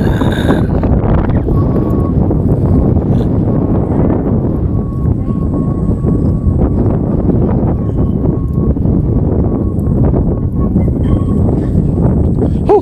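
Strong wind sweeps across Tinawagan Hills, a loud, steady, low roar buffeting the microphone without a break for the whole stretch.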